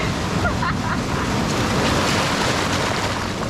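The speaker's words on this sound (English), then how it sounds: "Pretty big waves" Big ocean waves break at El Tunco beach in El Salvador as a continuous close roar of surf mixed with wind buffeting the microphone.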